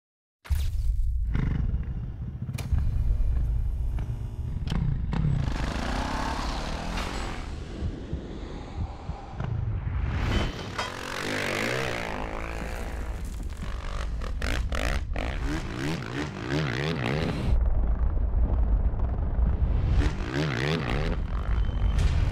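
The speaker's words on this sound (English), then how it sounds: "You can hear the throttles revving and smell the gas in the air" Flat track racing motorcycles rev their engines in the pits at a Lemington half-mile race, a loud continuous roar of several throttles blipping and surging, with no talk over it.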